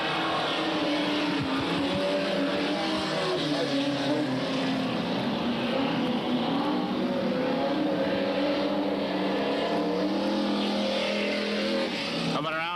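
Super stock race cars circle a one-third-mile oval track, a steady loud roar of engines droning throughout, with an announcer talking over the noise.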